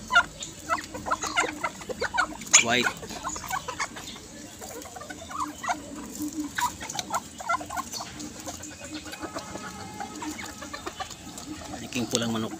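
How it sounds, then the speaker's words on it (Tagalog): Backyard chickens, including a lone white hen, cluck and call in a lively, steady stream close by, while someone talks over them throughout. "Itong manok na nag-iisang puti."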